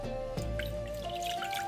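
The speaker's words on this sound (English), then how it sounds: "Add 300 milliliters of water," Water trickles and drips into a pan of gyudon sauce in a home kitchen, a steady, close liquid pouring sound with a soft splash near the start.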